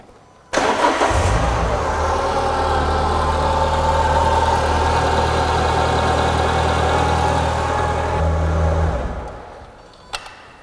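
Renault Clio 182 engine cranks and catches abruptly, then settles into a steady loud idle for several seconds, with a slight change in pitch before it shuts off and fades, followed by a single sharp click.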